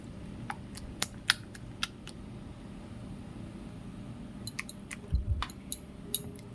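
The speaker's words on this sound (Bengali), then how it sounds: "একসঙ্গে সমস্ত কিছু খুব ভালো করে মিশিয়ে নিচ্ছি।" Grated potato and other ingredients being mixed together by hand in a bowl, soft wet squelching and scattered small clicks and taps, quiet and close, no talk.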